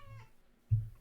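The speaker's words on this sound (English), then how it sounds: "my cat is very loud" A pet cat meows loudly indoors, giving a faint drawn-out cry followed by a sharper, louder meow close by with no talk over it.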